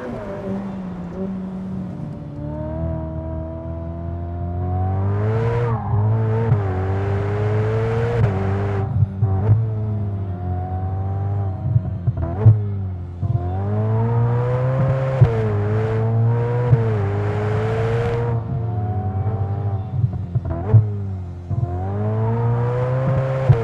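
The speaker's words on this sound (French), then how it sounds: "place maintenant au V8 et aux sensations qu'il procure" The turbocharged V8 of a Ferrari F8 Spider revs repeatedly, its loud engine note climbing and dropping in a series of surges with brief gaps between, heard alone without talk.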